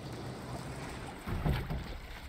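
A character sails away on a wooden board across water in the video game Little Nightmares 2, a low steady rush of wind and water with a brief swell of splashing lapping midway.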